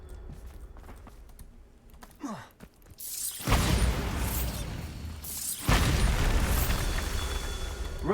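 A Bombarda spell goes off in Hogwarts Legacy, a loud, sustained explosive roar erupting after a quieter lead-in, followed by a second blast that keeps rumbling.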